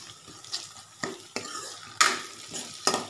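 Green chillies fry in a pan, sizzling softly while a utensil stirs and scrapes against the metal in a handful of sharp, irregular strokes, close and with no talk.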